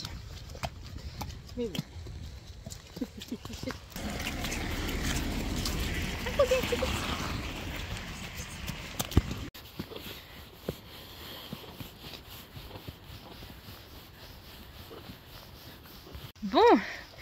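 Horse hooves clop steadily at a walk on wet ground, with rain noise and occasional speech over them.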